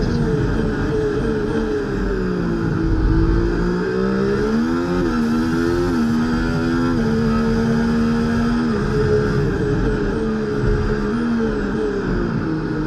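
Formula 1 cars race through the Las Vegas Grand Prix in the EA Sports F1 video game, with a steady high engine whine that rises and falls as the cars shift gears, loud and continuous throughout.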